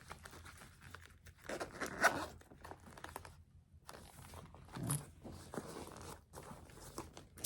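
Short bursts of a zipper being pulled around a small Hello Kitty zip-around case with a bow, with soft handling rustles and brief pauses between pulls.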